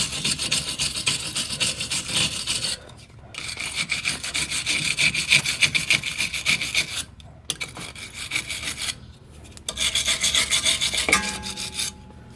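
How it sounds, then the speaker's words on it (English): A hand rubs and scrubs around the rear suspension knuckle of a 2004–2008 Pontiac Grand Prix, making loud, close, rhythmic scraping strokes in several long bursts separated by brief pauses. "So in that you're just going to clean up around the knuckle."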